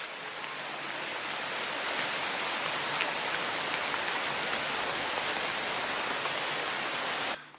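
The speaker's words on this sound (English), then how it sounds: "Yeah, it's rainy." Steady rain patters down through a mature forest, a dense continuous hiss of drops on leaves and ground that stays even and close throughout before cutting off abruptly at the end.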